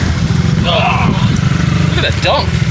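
An old, rusty abandoned four-cylinder diesel road roller with a muffler runs at a steady low rumble throughout, while people talk over it.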